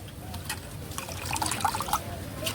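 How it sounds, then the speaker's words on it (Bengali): Gime greens being rinsed in a pot of water, giving a soft, close trickling and sloshing with small splashes, steady and fairly quiet throughout. "গিমে শাকটা এইদিকে জলে ভালো করে ধুয়ে"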